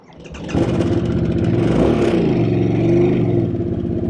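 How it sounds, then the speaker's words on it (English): A Harley-Davidson Sportster S motorcycle engine starts up close by and settles into a loud, throaty, rumbling idle with a brief rev in the middle. "This is a Sportster S, and we are going to go take that hot rod for a spin."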